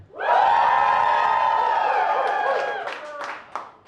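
A comedy show audience cheers, whoops and claps loudly together, a dense sustained roar of voices that fades into scattered shouts and claps near the end.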